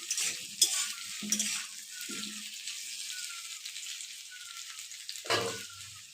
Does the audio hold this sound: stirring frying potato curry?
yes